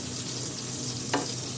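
Fried rice with egg, onion and garlic sizzles in a pan with a steady, even frying hiss, broken once by a brief utensil clink near the end.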